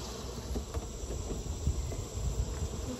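Bees buzz around a hive being fed peppermint mints, a soft, steady hum with faint scattered bumps and movement nearby, quiet and free of talk.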